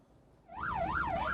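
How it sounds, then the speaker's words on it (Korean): A fire truck on an emergency run to a blaze at a billiard hall in Hwagok-dong, Seoul, sounds its siren, which starts up partway through and wails in smooth rising and falling sweeps, fairly near. "긴급 출동한 소방차가 도로를 내달립니다."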